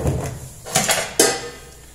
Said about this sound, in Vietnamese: Các bạn cho mình cái nồi lên bếp mình cho dầu ăn vào nhé